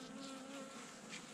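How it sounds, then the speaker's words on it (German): Honeybee colony buzzing at its hive in late autumn before overwintering, a close, continuous dense hum with a steady droning tone and no voices. "gucke mir das Bienenvolk von der Querschnittseite an"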